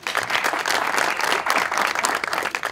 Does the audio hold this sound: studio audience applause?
yes